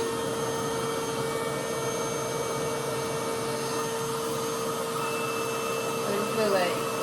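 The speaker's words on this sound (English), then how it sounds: "instead of you like blow drying like that, you're just putting your hair inside so that it can, you know, blow dry itself" A $400 reverse hair dryer drying 4C hair, a steady close-up whooshing motor-and-airflow hum running evenly throughout, with a slight surge near the end.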